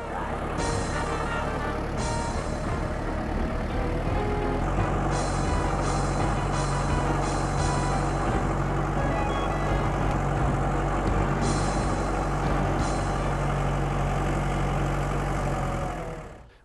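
Hay wagon ride at a pumpkin patch, its tractor engine idling and rumbling loudly and steadily up close, with repeated short metallic clanks over the drone and no clear talk.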